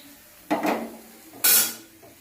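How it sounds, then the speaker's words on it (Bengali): A wok (karai) set down on a gas stove in a home kitchen gives two clattering metal knocks about a second apart, each ringing briefly before fading, with no talking. "কড়াইটা বসাই দেব।"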